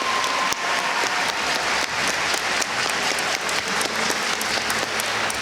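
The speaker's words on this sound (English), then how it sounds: "Kids, why don't you give them a round of applause for having to deal with this for a while" An audience at a high school assembly breaks into sustained applause, steady dense clapping that fills the room for several seconds with no voices rising above it.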